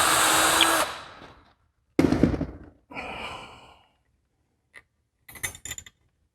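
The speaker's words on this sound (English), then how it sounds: "I'm going to pre-drill it with my" A power drill pre-drills holes for a black iron pipe loft stair handrail, running in a few short, close whirring bursts separated by quiet pauses.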